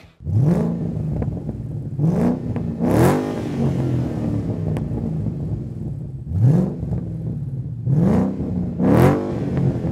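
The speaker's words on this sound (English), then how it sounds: "I went with the very popular and very affordable MBRP race system, which I gave a 4 out of 5 on my Wake the Neighbor scale, and here's what it sounds like" A Ford Mustang GT with an MBRP race cat-back exhaust revs in six sharp bursts, each rising to a throaty roar and falling back to a rumbling idle, loud and close with no voices.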